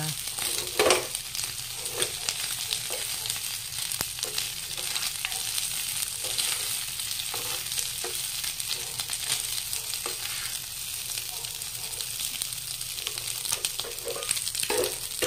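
Beef spleen adobo frying in a hot pan, a steady close sizzle with scattered pops and crackles and occasional stirring, with no voices.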